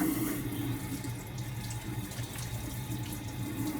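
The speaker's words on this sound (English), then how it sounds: "just hit my water. Rinse my hands." A kitchen tap runs steadily into a sink while hands are rinsed during barbecue prep, a close, continuous splashing stream of water with no talk.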